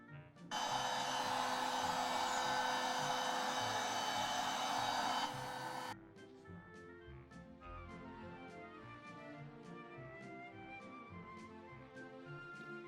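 A heat gun blasts hot air onto glued edges of a cosplay mask. The roar is loud, steady and close for about five seconds, then cuts off, leaving a quieter tonal background.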